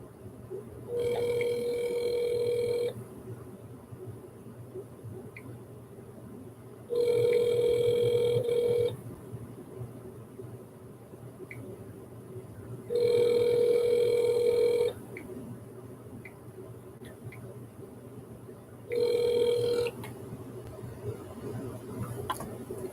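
A telephone call rings over speakerphone in four long, evenly spaced bursts, each followed by a gap, loud against a steady low hum.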